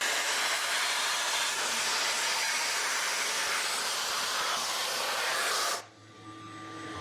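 Dry ice blasting a car chassis, a loud, steady broadband hiss like a powerful jet of air, continuous and close for several seconds before cutting off abruptly near the end.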